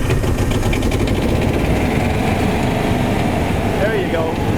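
The diesel engine of a 2004 Freightliner step van runs close by with a steady, unbroken rumbling drone after priming and glow plug warm-up.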